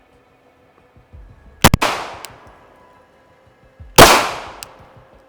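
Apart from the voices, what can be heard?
two gunshots fired on a shooting range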